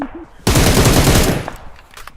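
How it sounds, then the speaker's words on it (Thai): Rapid automatic gunfire in a shooter video game, a loud, dense burst of fast shots lasting under a second, then quieter scattered sounds as someone speaks briefly over it. "อะไรมันยิงตรงไหนวะ"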